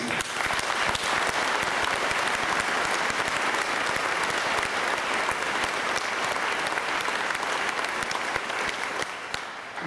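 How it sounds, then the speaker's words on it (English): Sustained audience applause for teachers fills a school commencement hall, a steady dense wash of clapping that holds for the full length before easing slightly at the end, with no voices over it. "can you give your teachers a round of applause?"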